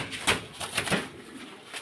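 Soft, muffled cooing from pigeons kept for sale, a few low pulsing calls close by with faint background noise and no talking.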